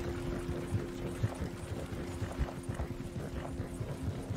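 Horse hooves clop at a steady trotting rhythm in the online western game Red Dead Online, a quiet, regular beat of muffled hoofbeats over a faint low hum.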